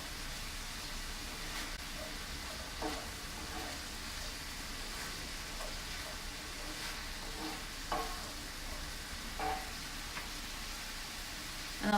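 Liquid sizzles steadily in a frying pan as it cooks down for a rice bowl, a continuous soft hiss with a few faint stirring clicks and no talking.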